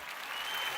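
Steady clapping from an audience at a business new-year event, dense and continuous for under a second with a faint crowd murmur.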